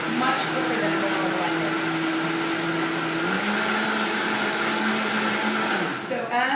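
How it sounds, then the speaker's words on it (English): A blender whirs loudly and continuously as it blends a green smoothie made with coconut water, the motor pitch dropping slightly partway through. "You see how quickly that blends?"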